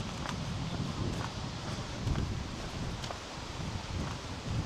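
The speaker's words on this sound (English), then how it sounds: "It's a wee bit windy, but that's not a bad thing, keeps me cool." Steady wind along a seaside promenade at Salou, a constant broadband rush with small gusts and faint scuffing, close to the microphone and heard alone without talk.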